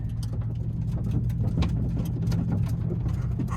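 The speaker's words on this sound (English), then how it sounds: "that's the sound of some thick mud that I just drove through." A 2019 Chevrolet Silverado churns through thick mud, with a low engine rumble under a continuous wet splattering and sloshing of muck against the truck.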